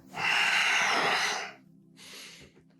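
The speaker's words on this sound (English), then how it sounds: "Big breaths, quite strong exhales." Strong yoga breathing, nearby and alone: one long, forceful rushing exhale lasting over a second, then a quieter, shorter breath after a brief pause.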